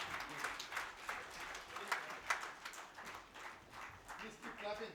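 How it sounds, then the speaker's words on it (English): Audience clapping at an awards ceremony during a summit event, an uneven patter of hands rising and falling in short bursts, with talk mixed in. "Please keep clapping."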